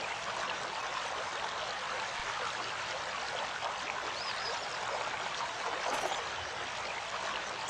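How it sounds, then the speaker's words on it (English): Water pours and trickles steadily over a small piece of gear being rinsed clean in an adventure game, a soft, even stream with no talking. "I've cleaned it with water."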